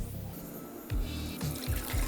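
Water poured into a pot for chicken and sweetcorn soup, a soft steady splashing stream with a few low glugs, close by and fairly quiet.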